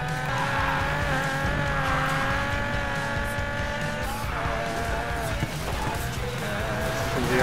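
A car drifts in the racing game Need for Speed Payback, its engine droning with tonal whine as tires squeal in long sustained skids, loud and continuous, with occasional talk over it.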